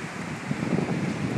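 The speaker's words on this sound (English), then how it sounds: "It's blowing like hell." Strong microburst wind in Northeast Philadelphia roars in a steady, buffeting rush with low gusty rumbles, close and loud.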